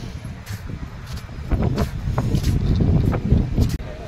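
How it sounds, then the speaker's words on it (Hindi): Strong wind buffeting the microphone beside the Ganges at Haridwar, gusty and rumbling, growing louder and more continuous in the second half, with no speech. "तो गाइस अभी इतना तेज हवा चल रहा है"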